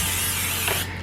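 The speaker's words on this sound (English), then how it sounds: "Alright, now we're gonna spray our pan." Cooking spray hisses onto a 9 by 13 inch baking dish in a home kitchen, one steady close burst that cuts off near the end.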